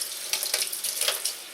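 Tap water running into a kitchen sink while ribs are rinsed, a steady close splashing stream with small irregular spatters throughout.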